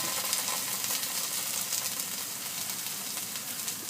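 Negi and miso sauté in a pan, giving a steady, even sizzle with crackling spits throughout, close and alone with no talk.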